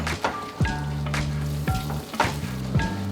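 Apple pie filling with vanilla bean powder bubbling on the stove, a close sizzle punctuated by repeated spoon scrapes against the pan at a slow, even rhythm.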